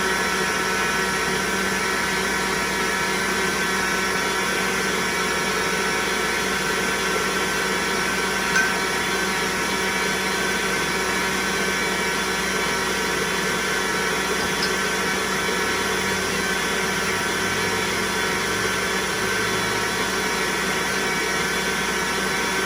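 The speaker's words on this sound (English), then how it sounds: "We're going to beat it just a little bit more." Electric hand mixer beating cream cheese brownie batter with German sweet chocolate, a steady continuous whir running unbroken throughout at an even, fairly loud level.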